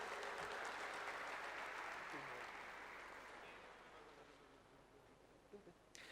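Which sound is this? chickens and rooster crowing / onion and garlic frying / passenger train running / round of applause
round of applause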